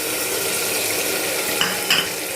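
A ginger, garlic and green chili paste stir-fries in a pan with a steady, close, crackling sizzle, broken by two quick scrapes of a spatula near the end; no voices.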